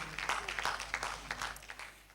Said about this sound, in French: Il se nomme Kwambena Kouman Samuel, que je vous demande d'applaudir.